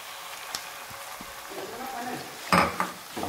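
Chopped tomatoes drop into a pan and are sautéed for an eggplant and peanut masala. The sound is a soft sizzle with utensil scrapes and a louder clatter near the end, and a voice talks over parts of it.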